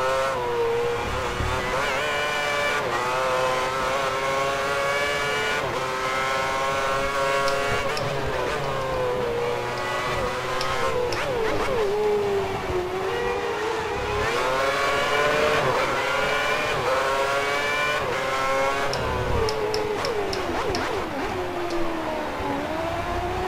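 Formula 1 race cars at Suzuka in the F1 2010 game, engines screaming and shifting pitch continuously as they accelerate and brake, with other cars passing close by throughout.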